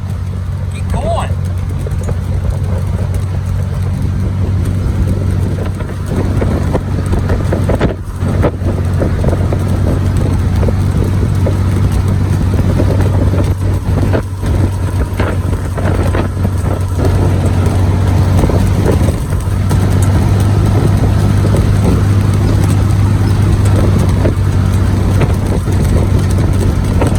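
Car engine droning steadily while driving a highway in a convoy against strong gusts, with low rumble and wind buffeting the microphone throughout, and someone talking over it.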